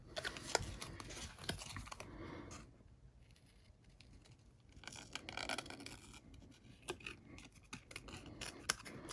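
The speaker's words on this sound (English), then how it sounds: "So I just fussy cut it from there." Scissors snip repeatedly at close range while fussy cutting a paper sticker for a mini album, crisp cuts coming in clusters with a quieter pause midway.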